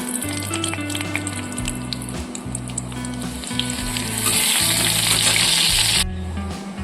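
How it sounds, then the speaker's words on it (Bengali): Tempering spices and a dry red chilli frying in hot oil, a loud close sizzle with stirring scrapes that swells before dropping off near the end, over a low intermittent hum. "ফোড়নটা ভাজা হয়ে গেছে, গন্ধ বেরিয়ে পড়েছে"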